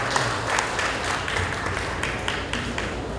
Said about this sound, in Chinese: 我们是不是再给林老师一个掌声？